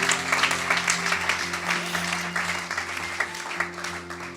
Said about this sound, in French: Vraiment, on acclame le Seigneur.